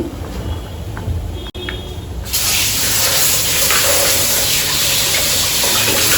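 Green chilies are rinsed under a running tap, a loud steady gush of water splashing that starts abruptly after a few seconds of quieter handling noise.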